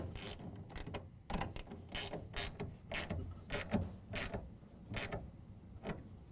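Repeated ratcheting clicks come from tightening the bed clamp of an Access LiteRider tonneau cover on a 2017 Nissan Frontier, rhythmic close bursts about twice a second with no talk.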